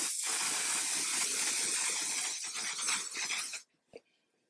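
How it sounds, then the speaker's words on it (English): A cosmetic setting spray hisses in a long continuous burst close to the face, then stops abruptly, leaving a brief soft tap and near silence. "I'm just gonna spray my whole face."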